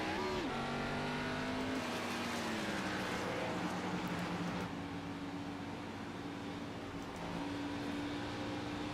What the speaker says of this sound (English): He's coming out in his Camaro